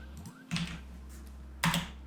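Two short bursts of quick key presses on a computer keyboard, typing a command on a Windows PC, close and quiet over a faint electrical hum.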